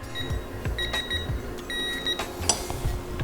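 Torquing the clutch nut on a Honda CBR600RR slipper clutch install: two sustained electronic beeps from the wrench ring out clearly over a low workshop hum, with a few soft metallic ticks between them.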